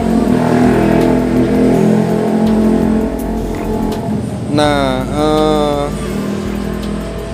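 A Yamaha R15 V3 motorcycle with a custom CLD Racing exhaust rumbles loudly and steadily throughout, its exhaust droning low. Someone speaks briefly over it partway through.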